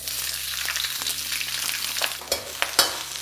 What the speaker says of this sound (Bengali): আর তেলটা একটু গরম হয়ে গেলে আমি এখানে দিয়ে দেবো 3 রকমের বেল পেপারস আর পেঁয়াজ।